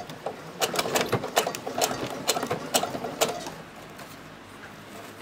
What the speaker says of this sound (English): while you're sewing it, and you stop and you pull it again